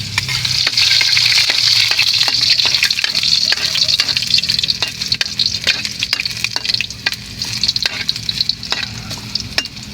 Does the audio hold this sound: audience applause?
no